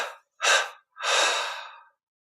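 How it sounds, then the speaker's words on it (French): A deep inhalation followed by a long exhalation during a guided Kriya Yoga breathing exercise; one short breath, then a strong intake, then a longer, tapering outbreath, close and alone with no talking. "Puis on prend une inspiration profonde. On expire en 3 fois."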